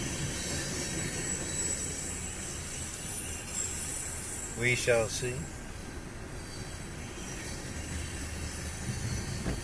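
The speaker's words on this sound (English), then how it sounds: "Third train today." A continuous, broad rumble of a train rolling past fills the whole stretch, while someone speaks briefly midway over it.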